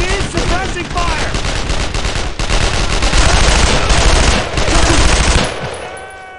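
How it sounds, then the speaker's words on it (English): Heavy, sustained machine-gun fire from the World War II shooter Brothers in Arms: Road to Hill 30, with loud, dense rapid bursts and overlapping gunshots that fade toward the end. "Don't stop firing! I need suppressing fire!"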